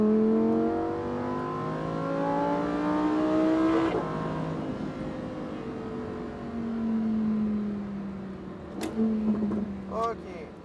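A Lamborghini Huracán STO of 640 hp accelerates hard on the Nogaro circuit, its engine note rising through the gears with an upshift around four seconds, a second pull later, then a loud close crackle near the end while people talk in the cabin.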